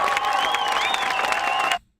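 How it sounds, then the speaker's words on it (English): Recorded crowd applause and cheering played back as a sound effect during a live-stream show, a dense steady wash of clapping with a faint whistle-like tone, ending abruptly just before two seconds. "Where's the applause that I saved last week?"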